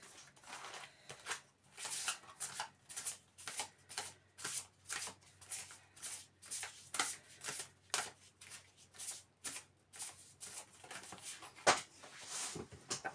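A deck of tarot cards is shuffled by hand in a steady run of quick riffling bursts, close and fairly soft, repeating at a regular rhythm for several seconds.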